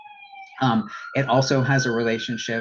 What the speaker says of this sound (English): sorry for the siren, you can probably hear in the background